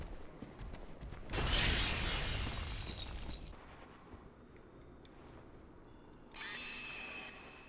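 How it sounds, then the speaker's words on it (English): A loud shattering crash with a whooshing sweep from a prism stone in a video game, followed by thin high ringing tones that linger and return faintly. "What was that screeching noise? Just an alarm that the prism stone makes because it didn't land in front of me?"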